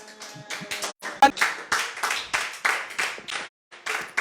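A church congregation claps in rhythm, with a series of close, sharp bursts of hand claps at a steady beat and a short pause before it resumes.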